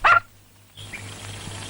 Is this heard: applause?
no